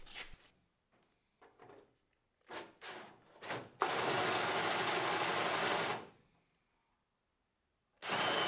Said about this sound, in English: so I drill through with the hole saw.